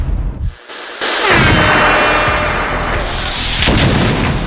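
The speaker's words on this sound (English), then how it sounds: "Right on cue, there's another explosion." A loud, close wartime explosion bursts out after a brief hush and rumbles on as a sustained, heavy roar with crackling debris.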